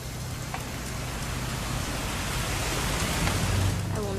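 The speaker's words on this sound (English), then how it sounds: "It's gonna rain the whole weekend," Steady rain falling in the video game What Remains of Edith Finch, a constant soft hiss of downpour with a faint low hum beneath it.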